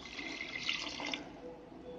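Water poured into a pot for a fish curry, a short close splashing rush that swells and then settles into a softer trickle, with no voices.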